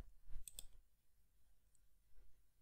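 A pair of sharp computer mouse clicks on a Windows 11 PC, close together near the start, then faint room noise with a softer tap later.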